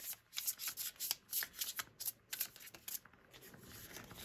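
Tarot cards shuffled by hand close up, a quick run of soft papery riffles and slaps in bursts, quiet and alone.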